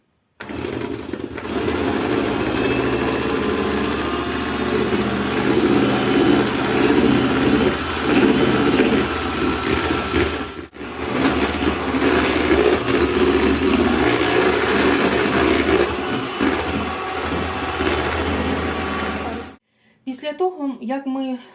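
An electric mixer beats a honey mass with eggs and sugar for a honey cake, a steady loud motor whir that stops briefly midway, then runs again before switching off, followed by a short bit of talk.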